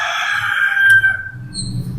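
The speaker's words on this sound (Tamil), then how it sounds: "கோழி வேறு பக்கத்தில் கத்திக்கிட்டே இருக்கு." A rooster crows close by, one drawn-out call standing out over a low background rumble, heard on its own with no voices in a home kitchen setting.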